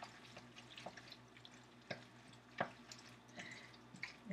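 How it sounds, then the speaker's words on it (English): Pasta being stirred and coated in clam sauce, giving soft wet clicks and scrapes of a utensil at an irregular rhythm over a faint, quiet sizzle. "We're just going to stir this up, make sure it's nice and coated."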